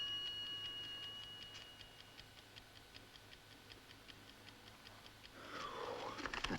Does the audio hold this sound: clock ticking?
yes